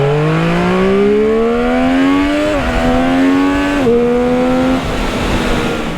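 Triumph Street Triple 765 RS motorcycle engine revving hard on a race track, rising through gears with two quick shift dips, loud and close throughout with no talking.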